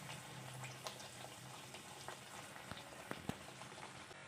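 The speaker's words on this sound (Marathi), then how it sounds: "तर आता मी तळून घेते" Banana puris fry in hot oil, giving a faint, steady crackle and fizz with scattered small pops and no talking.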